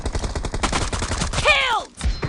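Rapid bursts of automatic gunfire in the mobile shooter PUBG Mobile, a dense crackling fusillade that runs nearly throughout, loud and close, with a brief whooshing sweep near the end.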